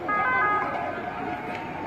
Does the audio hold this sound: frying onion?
no